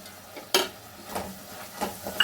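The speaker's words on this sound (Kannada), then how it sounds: "ಸ್ವಲ್ಪ ಹೊತ್ತು ಚೆನ್ನಾಗಿ ಫ್ರೈ ಮಾಡ್ಕೊಳ್ಳೋಣ ಸಿಮ್ಮಲ್ಲಿ ಇಟ್ಕೊಂಡೇ ಫ್ರೈ ಮಾಡ್ಕೊಳ್ಳಿ" Vangibath powder frying in a pan over low heat, with soft sizzling and a few sharp stirring scrapes and clinks of a spoon against the pan.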